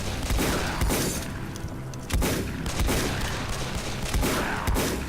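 Shotgun blasts in the horror shooter Possessed, a rapid series of sharp booming shots with short gaps, loud and close over dense game noise.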